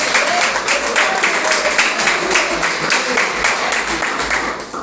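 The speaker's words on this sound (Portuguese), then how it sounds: "Palmas para mim, querido." A church congregation gives sustained applause, a dense, steady wash of many hands clapping at once, fading slightly at the end.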